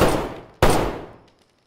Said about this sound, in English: I'm gonna dump a mag in.